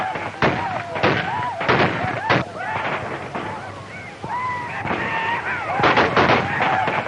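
Repeated gunshots crack out in bursts during a western frontier fight around a covered wagon under Indian attack, sharp reports spaced irregularly with shouting voices mixed in throughout.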